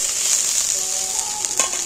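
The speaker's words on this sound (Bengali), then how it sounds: "তরুলিগুলো আমি মাছের তেলেতেই তরুলিগুলোকেও ভালো করে ভেজে নেব।" Taruli frying in fish oil in a kadai, a steady loud hissing sizzle close up, with a few faint clinks of stirring near the end and no voices.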